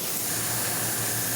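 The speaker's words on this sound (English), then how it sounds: "I'm going to go ahead and just spray the top as well" A paint sprayer coats an O scale model water column with a brief, continuous close hiss of steady spray.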